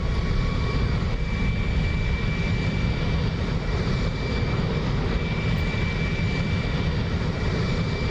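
The jet engines of an SR-71 taxiing in the DCS flight simulator give a steady, dense roar with a thin high whine laid over it, continuous and unchanging throughout.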